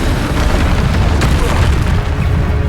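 A loud, sustained Bombarda spell explosion in Hogwarts Legacy, a dense roaring boom with crackling debris that fills the whole moment and barely dips before trailing on.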